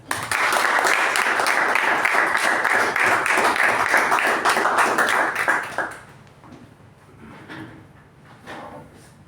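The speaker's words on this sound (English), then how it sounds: "With a huge round of applause, please give it up for our President, Toastmaster Ujwal." A room of club members at a Toastmasters meeting claps loudly for about six seconds to welcome their president, then the applause fades to scattered taps.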